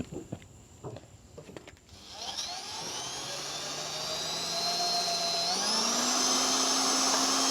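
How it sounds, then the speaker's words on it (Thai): A power drill bores into material while helping an elderly man build a seating bench, starting with a few taps, then a loud, close, steady whine that climbs in pitch as it runs. "เจาะ"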